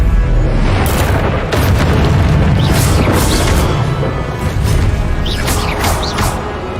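Repeated booming blasts of the Confringo explosion spell in the video game Hogwarts Legacy, dense and loud, rumbling continuously with crashing bursts layered over one another.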